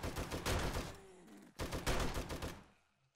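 Two long bursts of machine gun fire in 7 Days To Die, the rattling shots split by a short pause, the second burst trailing off into quiet, with no speech.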